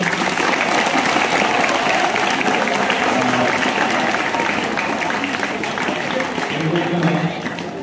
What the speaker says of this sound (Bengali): ধরে হাততালি দাও।